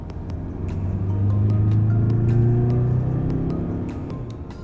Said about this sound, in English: The only time you would feel or you'd realize that you're driving a diesel-powered SUV is when you accelerate hard.